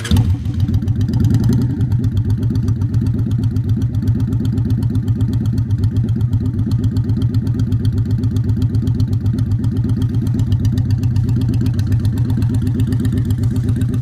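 A motorcycle engine runs during a riding lesson, a steady loud, close putter that stays low and even throughout, with a brief rise in revs at the start and no voices over it.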